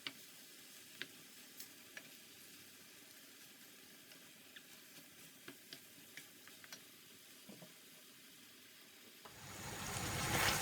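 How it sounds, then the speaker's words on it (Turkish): Filling for içli köfte roasting in butter in a pan makes a faint, soft sizzle dotted with sparse ticks and pops, then swells into a louder hiss at the very end. "Bakın iç harcım iyice kavruldu."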